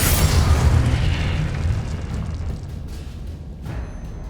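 A Confringo blast spell from Hogwarts Legacy goes off as a loud, close boom with a rumbling tail that slowly fades over a few seconds, standing alone without talk.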